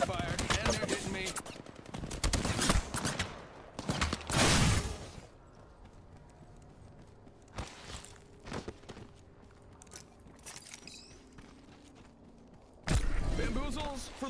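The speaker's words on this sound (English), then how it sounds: "Shot fired, and they're hitting me." Bursts of gunfire from the video game Apex Legends, including rapid automatic fire and heavy shotgun blasts, come in loud clusters with quieter footsteps and mechanical clicks between, while a player talks over it.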